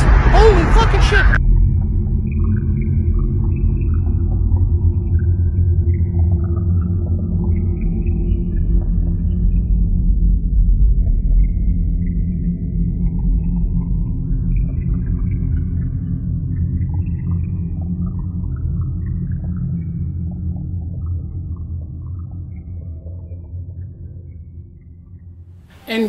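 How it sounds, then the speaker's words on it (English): Deep, sustained thunder from a lightning storm rolls on for about 25 seconds, loud and continuous, with a sharp crack at the very start and another burst at the end. "Watch the lightning storm."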